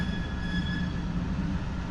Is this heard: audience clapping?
no